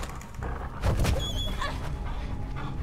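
A dog in the video game Beyond Two Souls lets out a short, close bark burst over a steady ambient game background, followed by quieter shuffling and faint sounds.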